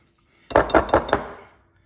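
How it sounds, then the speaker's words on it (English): A spatula works thick chocolate tea bread batter out of a mixing bowl, making four quick, close clinks and scrapes against the bowl before fading away. "Now, I'm going to switch to that spatula, Melissa, if I can reach it."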